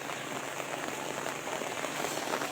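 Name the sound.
rain falling before a tornado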